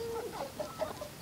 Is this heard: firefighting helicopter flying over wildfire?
no